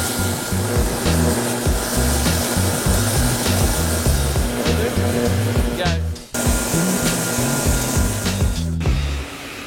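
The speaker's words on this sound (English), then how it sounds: "We're gonna clean this up at the edge sander now" An edge sander works the edge of a wooden workpiece, giving a loud continuous abrasive whir with a throbbing motor hum and one brief dip as the wood shifts against the belt.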